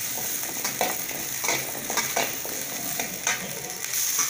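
Onions sauté in oil in a pan for brinjal kulambu, a constant close sizzle with light spoon-stirring clicks scattered throughout.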